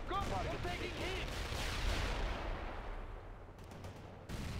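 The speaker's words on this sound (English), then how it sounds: "Artillery strike on our target!" Artillery strike in the World in Conflict Soviet Assault game, a continuous heavy rumble of explosions and gunfire that fades toward the end, with radio chatter voices underneath.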